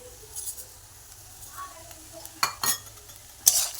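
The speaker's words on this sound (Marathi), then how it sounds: "हे सर्व एकत्र करायचं आणि बारीक गॅसवरती वाफेवरती खिचडी शिजवून घ्यायची।" A spoon stirs sabudana khichdi in a pan over low heat, with soft scraping and a few sharp metallic clinks against the pan. A faint sizzle sits underneath.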